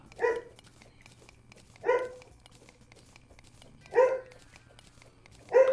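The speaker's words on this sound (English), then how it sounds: "She's barking at her neighbors for no reason." A dog barks at neighbours, four single loud barks spaced roughly two seconds apart, with a steady low hum underneath and no talking.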